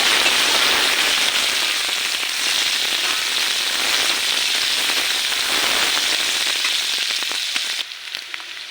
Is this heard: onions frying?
yes